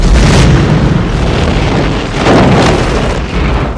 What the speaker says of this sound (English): That exploded right next to him.